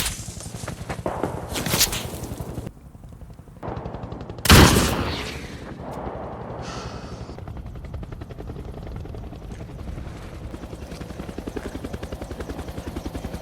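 Scattered gunshots from a sniper rifle fired at random among ruins, a loud sharp crack standing out near the middle amid bursts of rumbling battlefield noise and a steady mechanical drone.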